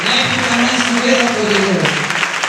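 A church congregation at a fasting and prayer service applauds, a dense, loud, continuous clapping wash with a voice speaking over it.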